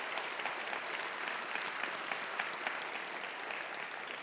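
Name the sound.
audience applause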